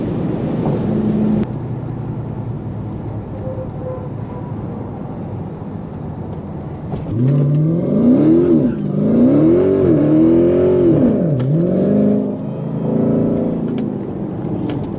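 A 751 hp Dodge Charger Hellcat's 6.2-liter V8 engine revs hard, pitch climbing and dipping in repeated surges after a steady idle-like drone.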